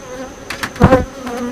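Honeybees drone in a healthy hive opened for an early July inspection, a constant buzz broken by a few short clunks and rustles of frames being handled nearby.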